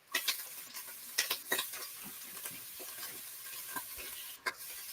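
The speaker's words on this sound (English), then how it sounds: "Trying to break up the sausage." Sausage being broken up and stirred in a frying pan, a quiet scrape-and-tap texture with scattered clicks and light sizzle, clustered strikes near the start and a sharp knock toward the end.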